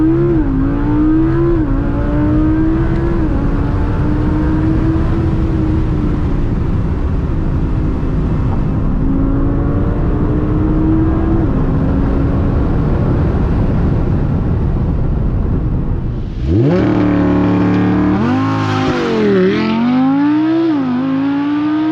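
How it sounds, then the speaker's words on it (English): Green Audi R8 V10 Plus launching in performance mode with traction control off, a loud close engine roaring steadily through the gears for about sixteen seconds, then a sharp shift and renewed surging revs alone with no talk. "right, so we're gonna launch the car"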